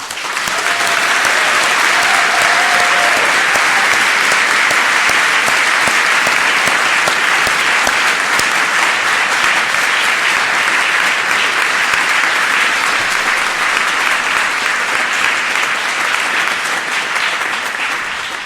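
A large audience at a University of Reading winter graduation ceremony claps in a dense, sustained round, loud and even from start to finish with no voices rising above it.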